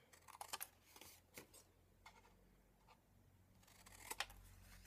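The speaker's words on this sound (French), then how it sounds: "je vais juste tailler mettre un coup de ciseau au niveau des angles" Scissors snip the corners of paper for a handmade card pouch, a few faint, sharp clicks in small clusters close by in a quiet room, with no talking.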